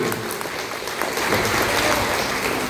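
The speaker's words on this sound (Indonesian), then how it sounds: "Ya, tepuk tangan dulu." A congregation claps together at a worship service for elderly churchgoers, a dense, steady patter of many hands that stays loud and close throughout with no talking over it.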